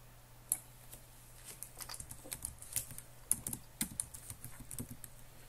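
Keys tapped on a computer keyboard in quick irregular bursts, close and fairly quiet, with a faint steady hum beneath.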